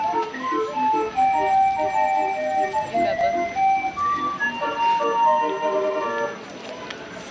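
Carousel music at an amusement park, a bright tinkling organ-like tune with a ticking beat, playing steadily at moderate distance with faint voices around.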